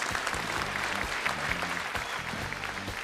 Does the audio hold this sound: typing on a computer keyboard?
no